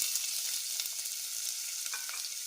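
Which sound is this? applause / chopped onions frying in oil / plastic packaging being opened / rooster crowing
chopped onions frying in oil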